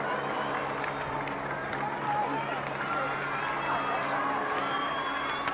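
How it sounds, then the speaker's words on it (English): A crowd at a bridge during a Christmas pudding event shouts and cheers in a continuous, fairly loud wash of voices, with scattered calls and whoops heard from a moderate distance. "And you can hear more shouting at the bridge."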